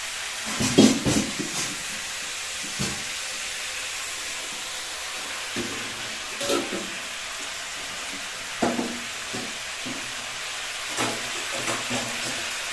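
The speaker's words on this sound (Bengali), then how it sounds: "এখন জাস্ট একটু ভাজা ভাজা করে নেবে" Food frying in a pan on a gas flame while prawn malai curry with kohlrabi and flat beans is cooked. A gentle, continuous sizzle is broken by scattered scraping stirs and clinks of the spatula.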